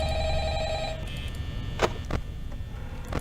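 A telephone rings in Five Nights at Freddy's, a steady electronic ring that stops after about a second, followed by a few sharp clicks and faint background hum.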